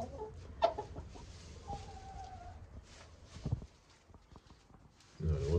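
Chickens on their roost in the dark give soft, scattered clucks and low murmurs in a quiet setting, with an occasional sharper call and a brief rustling thump near the end.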